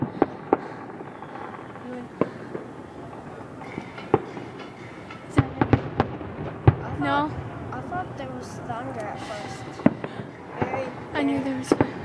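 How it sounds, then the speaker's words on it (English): Fireworks burst at the First Night celebration in Scranton in 2012, a run of sharp distant pops and bangs that grows busier toward the end, under ongoing conversation. "I knew there was fireworks."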